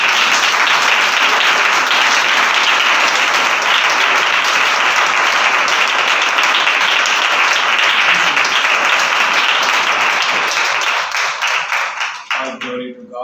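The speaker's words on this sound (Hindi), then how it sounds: "थोड़ा जोरदार ताली बजाएंगे।" Audience at a church fellowship gathering clapping loudly and steadily as a dense, sustained wash of applause that thins out and trails off into scattered claps at the end.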